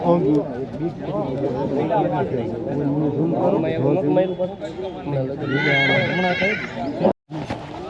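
Horse neighing at a horse market where mares are bought and sold, a loud high whinny rising out of steady crowd chatter and nearby talking voices.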